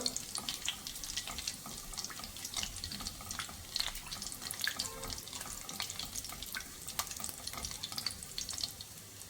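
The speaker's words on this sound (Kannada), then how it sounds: "ಈಗ ಎಣ್ಣೆ ಬಿಸಿಯಾಗಿದೆ. ಈಗ ಸ್ವಲ್ಪ ಜೀರಿಗೆನ ಹಾಕ್ತಾ ಇದ್ದೀನಿ ನಾನು." Cumin seeds sizzle in hot oil in a pan while cooking a ridge gourd masala, a faint, continuous crackling fry with scattered pops and no talking.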